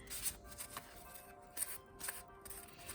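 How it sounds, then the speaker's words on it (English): Soft, papery riffling of a Tarot de Marseille deck being shuffled, light rapid flutters with a few crisp snaps, quiet and close with no voices. "So you can hear probably they shuffle quite lovely."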